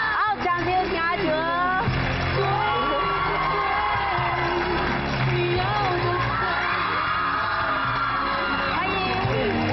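A studio audience cheers, whoops and yells loudly as a singer is welcomed on stage at an interview show, a dense continuous roar of crowd shouting that lasts the whole time.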